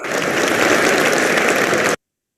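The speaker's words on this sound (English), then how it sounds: "were you both able to hear the clapping?" Applause from a played video, a dense steady patter of clapping at moderate level that lasts about two seconds and then cuts off abruptly into silence.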